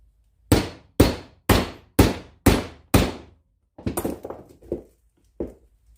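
Six evenly spaced, sharp metallic hammer blows tapping a bearing into an LS rocker trunnion set in a socket, followed by a cluster of lighter, irregular taps and knocks.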